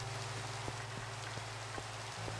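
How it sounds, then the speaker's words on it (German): Steady rain pours in Minecraft, a dense even hiss with scattered drop ticks and a faint low hum, no voices. "Wie das jetzt so wirkt, auch wenn es regnet."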